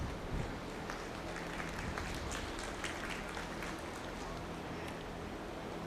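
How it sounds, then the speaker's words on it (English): Steady clapping from a crowd at a Milking Shorthorn and Red & White Holstein cattle show, fairly faint and distant, sustained throughout without voices standing out. "Let's give them a round of applause, please."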